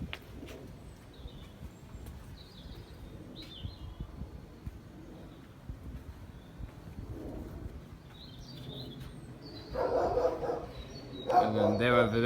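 Dogs bark outdoors as someone deliberately winds them up, with a few louder bursts near the end rising over steady background noise and faint bird calls.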